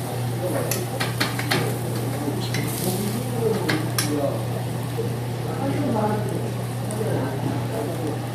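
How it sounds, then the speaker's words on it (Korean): Marinated galbi beef ribs grill over a charcoal roaster with a soft, steady sizzle, broken by scattered sharp clinks of tongs and metal, while someone talks over the cooking throughout. "고기가 아주 그냥 노릇노릇하게 구워지는 것을 볼 수가 있습니다"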